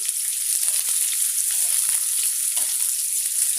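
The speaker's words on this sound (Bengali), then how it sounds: "লাল করে ভেজে নিব পেঁয়াজ রসুনগুলো" Chopped onion and garlic sizzle steadily in hot oil for a cabbage bhaji, a dense, even frying hiss with no break, close and loud, and no voices.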